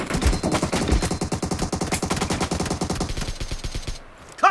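Rapid automatic gunfire in a shooting video game, sustained loud bursts of machine-gun fire that fade near the end, with a short sound at the very end and no speech.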